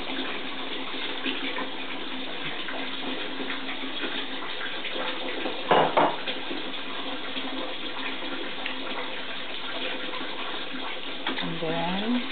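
Water running steadily into a pot while making kimchi jjigae, a continuous broad wash that carries on throughout, with a brief louder splash partway through and faint background voices.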